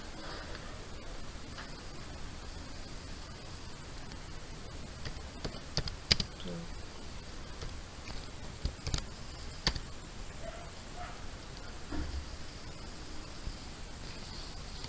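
A command typed on a computer keyboard to check the installed version of Pug for Node.js: a few faint, sparse keystroke clicks over a low steady hiss, with no talking.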